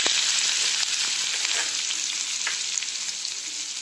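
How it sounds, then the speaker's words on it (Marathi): Chopped onion sizzles loudly in hot oil with cumin, a dense, continuous crackle close by, with faint scraping as the pan is stirred. "कांदा चांगला परतून घ्यायचा"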